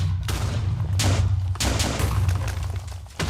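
Assault rifle fired in the video game Rust, several sharp bursts of rapid shots with short gaps between them, loud and close.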